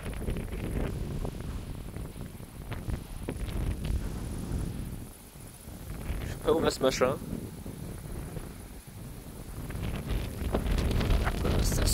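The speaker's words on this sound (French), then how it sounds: "là il y a de la rafale qui arrive, je les entends" Gusting wind during a storm roars against a handheld phone microphone, with broad low rumbling that swells and buffets, dips briefly in the middle and builds again toward the end, while a person speaks over it.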